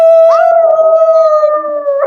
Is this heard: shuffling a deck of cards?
no